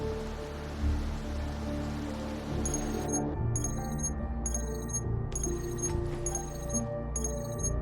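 Steady rain in the video game Wuthering Waves hisses throughout, joined partway by a regular ticking pulse repeating at even intervals.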